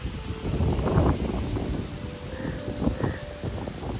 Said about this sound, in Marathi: आणि एवढा वारा सुटलाय